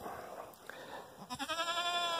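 A goat stuck in a fence bleats close to the microphone, first a few short wavering calls and then one long, loud, quavering bleat at the end.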